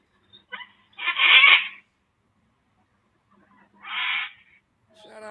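Wild birds give loud, harsh squawking calls in two bursts, one near the start and a second about two seconds later, with quieter chatter in between and another call starting at the end.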